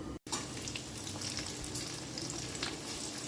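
Spiced prawns coated in salt and turmeric sizzle steadily in a pan, a close, continuous frying hiss with faint crackles and no talking.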